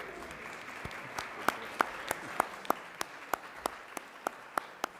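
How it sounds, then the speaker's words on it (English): An audience at a business competition applauds a winner, with a steady patter of many hands and a few sharp, louder individual claps punctuating it at fairly even intervals, moderately distant and sustained for several seconds. "A round of applause for this great gift."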